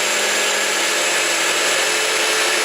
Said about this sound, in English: I'm just going to grind this until they become like a flour